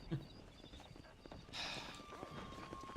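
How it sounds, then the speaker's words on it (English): Horse hooves clip-clop on the ground in the Red Dead Redemption video game. A few quiet, brief hoofbeats sound over faint ambient game noise. "Horse"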